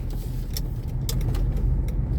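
A 1999 Ford Mondeo Mark II 2.0 Ghia X saloon drives along a normal road, its engine and road rumble a steady low drone heard from inside the cabin, with a few light rattles and clicks on top.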